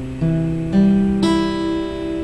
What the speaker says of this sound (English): after that, he plays the fourth, third, and first string